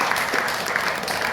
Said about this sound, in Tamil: வாழ்த்துனா கைதட்டுங்க.